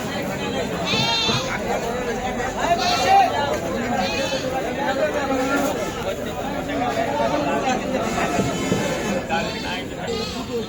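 Goats bleat repeatedly among a crowd of chattering voices, calls rising over steady talk and bustle at an outdoor livestock market.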